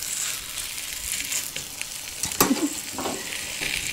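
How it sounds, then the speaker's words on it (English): Pork belly sears in a hot pan for Korean barbecue, giving a steady close sizzle with a brief louder burst of crackle and a clatter midway, and no talking. "It just needs to sear pretty much."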